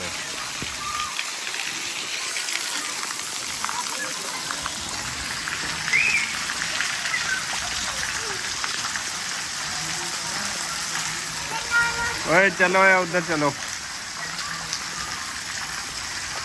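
Steady, dense hiss of heavy rainfall pours throughout on a village in Pakistan, with a voice calling out briefly partway through.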